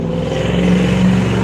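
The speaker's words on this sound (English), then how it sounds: "The truck is really loud." A loud truck engine rumbles close by with a steady low drone and a rising revving tone throughout.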